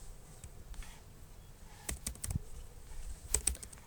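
Keys clack on a computer keyboard as a command is typed into the Windows command prompt, sparse close taps with short bursts of clustered strokes, alone with no voices.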